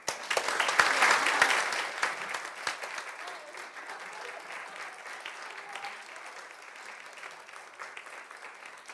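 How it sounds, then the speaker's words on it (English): An audience at a luncheon breaks into loud applause that peaks in the first seconds, then settles into steadier, thinner clapping. "How about another round of applause for the great kids?"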